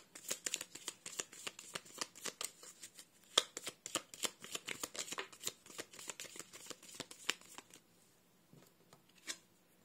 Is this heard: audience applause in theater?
no